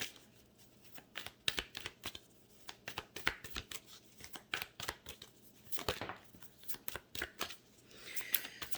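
A Moonology oracle card deck being shuffled, quick riffling and flicking of cards in irregular bursts, close and fairly quiet, with no talk.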